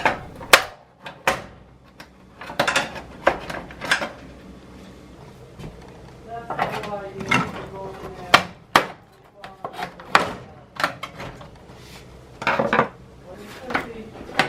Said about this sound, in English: I'll get a flat blade screwdriver, a sizable one, and pry up on each end to disengage that front panel from the back.